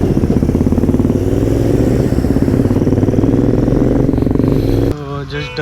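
A motorcycle engine runs nearby with a loud, steady, throbbing putter that continues unbroken for several seconds before cutting off abruptly near the end.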